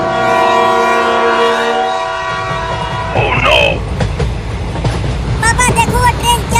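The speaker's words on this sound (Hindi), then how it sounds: "वो ट्रेन चलने लगी।" A cartoon train starts to move, its sustained horn sounding loud at first, then giving way to rumbling wheels, a short squeal and rhythmic clatter.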